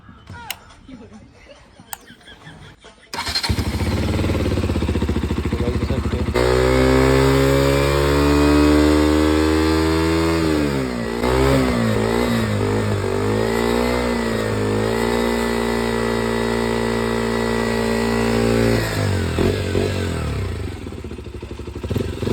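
A small RC model engine sputters into life, then roars at high revs, steady and loud, with pitch swings as it is throttled, while popcorn is meant to pop over it; clatter comes before the start.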